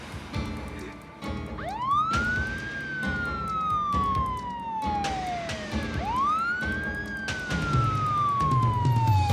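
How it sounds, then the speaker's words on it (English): An ambulance siren wails in two rising-and-falling sweeps, loud and close, over a rumbling vehicle and background noise. "the ambulance arrived 10 minutes later"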